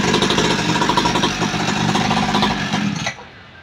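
A children's petrol-powered motorbike engine runs with a steady, buzzing, sputtering rattle up close, then cuts off abruptly near the end.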